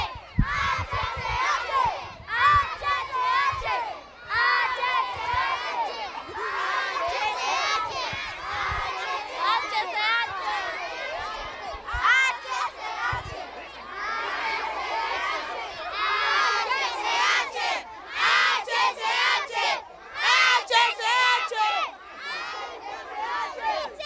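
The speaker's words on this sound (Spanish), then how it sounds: "¡Vamos a ver un grito, niños!" A large crowd of children in the Abraham Lincoln neighborhood shouts and cheers loudly and continuously at a toy giveaway, a dense, sustained roar with swells of higher yells.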